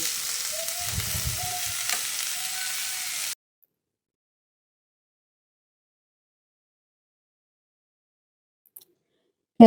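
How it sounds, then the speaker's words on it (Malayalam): Shredded cabbage for a coconut upperi stir-fry sizzles in a pan for about three seconds, a steady hiss that cuts off abruptly into silence. "നമ്മൾ ഉപ്പേരി ഉണ്ടാക്കാൻ പോവാണ് കേട്ടോ കാബേജ് ഉപ്പേരി"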